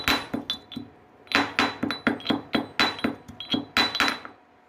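Spices are pounded in an iron mortar with a pestle, giving a steady run of sharp metallic clinks and thuds, about two to three strikes per second, close and fairly loud, with a brief pause early on.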